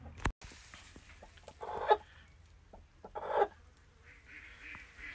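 A broody hen gives two short bursts of agitated clucking, close and fairly loud, separated by quiet rustling and low background noise.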